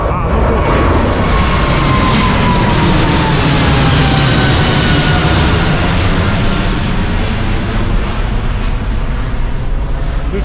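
A loud, roaring jet engine rumble sustained throughout, as a large airplane passes close overhead on takeoff in Thailand.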